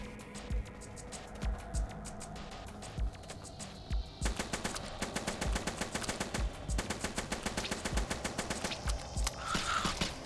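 Rapid, dense pistol gunfire from the video game Hordelicious, starting as scattered shots and then firing almost continuously in a quick, steady rhythm, loud and close with no talk over it.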